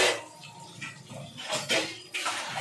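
Chopped onions go into a cooking pan that already holds curry leaves and mint: a metal spoon clinks and scrapes against the pan, with soft sizzling and rustling at close range.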